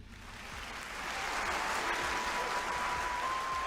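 Applause from an audience in a Hindi-dubbed anime film swells up over the first second and then holds as steady, full clapping from a crowd.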